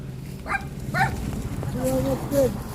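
A dog gives a few short yips and whiny barks close by, over a busy background of voices and household noise.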